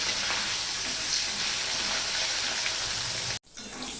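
Pieces of rui fish fry in hot oil with a steady, dense sizzle that crackles on and on close by, then breaks off in a sudden short gap before the hiss picks up again more softly.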